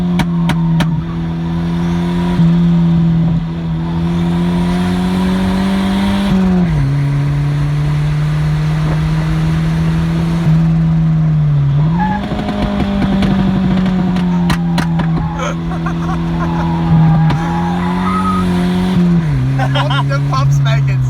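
A turbocharged CA20E engine in a Nissan Silvia S12 accelerates at part throttle, a loud, close, sustained engine drone that rises and falls through several rev sweeps over about twenty seconds.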